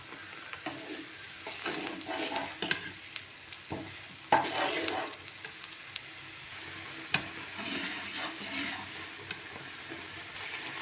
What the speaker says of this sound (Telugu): చూడండి, ఇలా దగ్గర పడేంత వరకు బాగా కలుపుకోవాలి